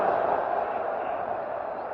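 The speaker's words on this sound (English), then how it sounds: "Some rising noises coming from the Turkish crowd for that one." A Turkish football crowd in a stadium during a 1984 World Cup qualifier against England gives off a dense, steady roar that swells slightly, with faint commentary underneath.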